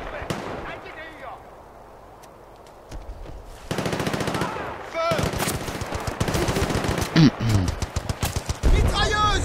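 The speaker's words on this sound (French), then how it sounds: "Mitrailleuse, baissez la tête." Automatic gunfire in the Battlefield Bad Company 2 video game, with dense rapid bursts building through the second half alongside explosions and battle noise, someone talking briefly over the action.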